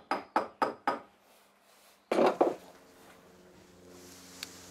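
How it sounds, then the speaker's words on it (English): Metal hammer taps a Jacob's chuck on a two-morse taper into a lathe spindle: four sharp, evenly spaced taps, then after a pause two heavier ringing blows close together, leaving a faint hum afterward. "tap it with a hammer."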